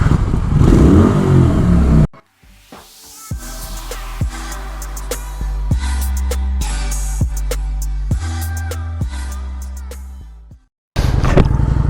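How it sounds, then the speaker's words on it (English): A 2016 Kawasaki Vulcan 900 custom motorcycle engine runs close by, a low steady rumble with repeated sharp blips and clatter, cut off abruptly near the end. "we are driving a 2016 Kawasaki Vulcan 900"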